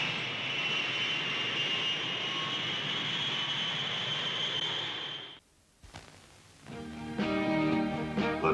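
Jet aircraft roar from a 1970 Ford commercial sound effect, a loud steady broadband whine for about five seconds that cuts off abruptly, followed by a brief quiet gap and then music.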